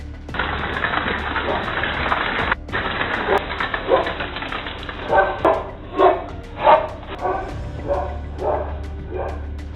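A dog filmed while fleeing from a lion gives a run of short barks and yips in the later half, rhythmic and moderately close, over a noisy, band-limited outdoor background.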